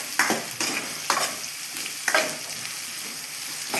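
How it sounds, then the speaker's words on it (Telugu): Onions frying in a pan, a continuous close sizzle broken by several brushy stirring strokes that come in roughly regular pulses. "ఉల్లిపాయలు వేగుతున్నాయి."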